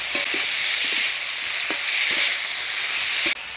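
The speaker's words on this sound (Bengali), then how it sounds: "এবার ভালো করে নাড়াচাড়া করে নিই" Fish curry with ground spice paste, turmeric and salt is stirred in a pan over steady sizzling frying, with occasional spoon scrapes and knocks against the pan; a village-style Bengali cooking scene with no talk.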